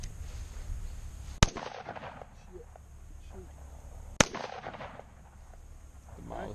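Two sharp, loud Ruger SR556 rifle shots crack out at a Coke can target, a few seconds apart, each with a short echoing tail over outdoor background noise and faint voices.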